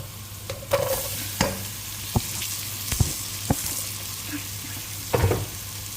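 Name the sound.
sizzling while cooking squid in coconut milk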